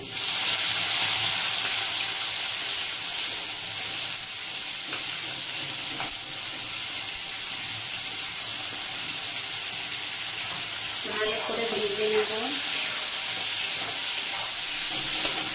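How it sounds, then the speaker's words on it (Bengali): Chopped onions frying in mustard oil, making a steady, loud sizzle and hiss throughout, with a brief stir partway through. "এবার পেঁয়াজ কুচিগুলো দিয়ে দেব।"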